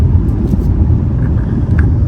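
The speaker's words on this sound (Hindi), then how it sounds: "उसके बाद गाड़ी 110 की स्पीड पे जा रही है" A car cruising at about 110 km/h on a road near Madina, a loud, steady, low engine and road rumble filling the cabin without a break.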